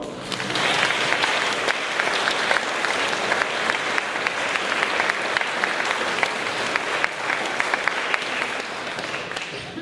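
An audience at a festive open-air mass applauds the mayor, many hands clapping in a steady, full patter with crisp individual claps standing out, moderately loud and sustained without speech.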